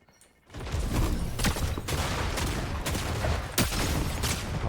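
Loud gunfire in a video game, presumably from a flintlock, bursts in after a quiet start and continues as a dense, sustained barrage of shots. Sharp cracks stand out near 1.5, 1.9 and 3.6 seconds.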